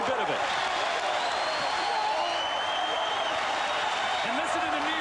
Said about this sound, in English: listen to the New York crowd cheer their team